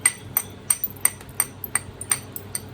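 Sharp knapping strikes on stone, knocking small flakes about half an inch long off a rock, about eight crisp clicking hits at a steady rhythm, close and clear with no talk.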